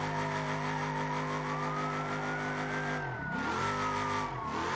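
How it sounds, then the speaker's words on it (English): A 1st gen Cummins engine in the driving game BeamNG drones steadily, then revs briefly around the three-second mark and again near the end, loud and close with no talk. "this car is pretty loud"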